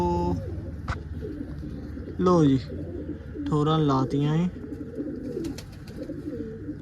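Pigeons in a rooftop loft coo in a few close, throaty bursts, while someone talks briefly nearby between the calls.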